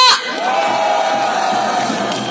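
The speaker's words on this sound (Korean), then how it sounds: "큰 박수 부탁드립니다" A loud crowd cheering and whooping, sustained and close, with a burst of noise at the start and steady shouting throughout.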